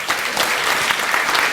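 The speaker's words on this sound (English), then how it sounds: "Let's give them a nice round of applause." An audience gives a round of applause at a school spotlight event, dense continuous clapping filling the short stretch, fairly close and even in loudness.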